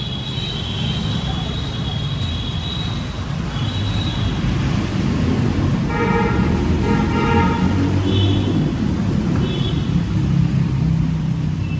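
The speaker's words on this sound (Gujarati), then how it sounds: "અમારે બુલેટનો સાયલેન્સર ફિટ કરીને આવે છે." A motorcycle fitted with a Bullet silencer runs steadily on a Surat road after a Ganpati visit, giving a continuous low engine rumble mixed with surrounding traffic and brief higher tones.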